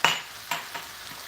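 Food in a pan being stirred with black and white pepper, a few light scrapes and clinks spaced about a second apart, close and moderately loud with a faint sizzle between them.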